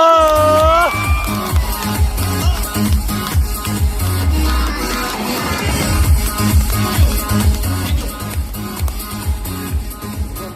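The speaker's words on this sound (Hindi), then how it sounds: "मेरा मेंटर मिस्टर प्रदीप कुमार साहू जी के लिए जोरदार तालियां" A crowd of people at a motivational business gathering for the Safe Shop network in Assam cheers and whoops loudly, with steady clapping and background music throughout; voices rise over the din.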